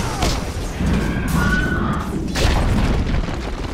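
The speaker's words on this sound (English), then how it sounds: "Dire's bottom tower has fallen." A Dota 2 tower collapses with a heavy booming crash and crumbling debris, followed by a short rising tone and a second impact, loud and close.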